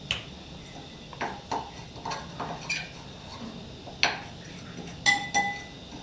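Batter for Thai fried mussels being stirred in a bowl, with a utensil giving a string of light clinks and taps against the side, irregular and close, fairly quiet against a faint background.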